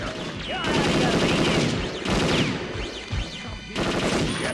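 Video game gunfire crackles in rapid automatic bursts with sharp individual shots, loud and close, in several bursts separated by brief gaps, with shouting voices mixed in.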